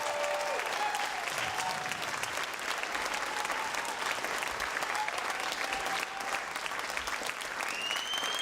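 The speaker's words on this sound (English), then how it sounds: "one more round of applause for Nina?" A crowd at a talk on building a progressive movement gives a round of applause, sustained, dense clapping that stays loud and even throughout with only faint scattered voices underneath.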